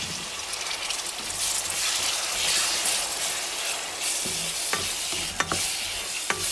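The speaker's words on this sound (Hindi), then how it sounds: "5 से 10 मिनट तक के लिए मैं इसका मसाला भूनूँगी" Masala of chopped green chillies and tomatoes frying in a pan for kofta curry, a steady close sizzle with scraping stirs breaking through near the end, no voices.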